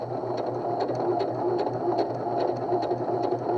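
A Pfaff 140s/160s sewing machine stitching a blind hem, its motor whirring in a fast, steady rhythmic chatter of needle strokes, close and continuous, with no talking.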